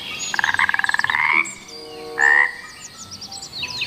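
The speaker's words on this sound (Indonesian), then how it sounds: "Keluarlah seekor kodok." A frog croaks in a rapid pulsing trill, then gives a second, shorter croak a moment later. Both calls are loud and close over faint background noise, with no voices.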